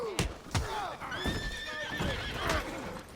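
A horse in Red Dead Redemption 2 whinnies loudly with a shrill, wavering neigh, accompanied by sharp hoof clops and thuds, close by.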